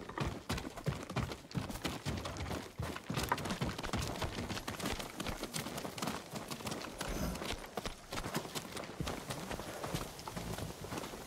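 Horse hooves clip-clop steadily and close in the video game Ghost of Tsushima, a continuous run of even, rhythmic thuds with little else around.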